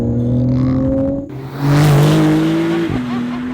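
A Porsche 911 (992) sports car engine hums and revs, rising in pitch through gear changes with a brief roar of acceleration, loud and close.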